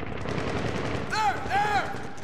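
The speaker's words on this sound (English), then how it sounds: "You hear that? That is an AK fire." Automatic AK rifle fire in the Medal of Honor (2010) video game, heard as dense crackling bursts over a steady battle din, with two sharp swooping whistles toward the end.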